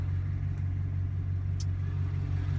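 A 2015 GMC Sierra Badlander lifted pickup idling through a stainless steel exhaust, a steady deep low hum with a faint throb, constant and close with no talk.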